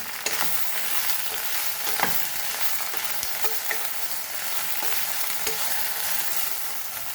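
Okra frying in a pan over a medium flame gives a moderate, steady sizzle broken by irregular scrapes and taps of a spoon stirring it.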